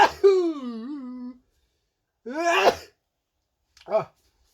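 A man sneezes while working alone on replacing front Brembo brake discs and pads, with a drawn-out vocal buildup, a burst, and a shorter second sound after a pause.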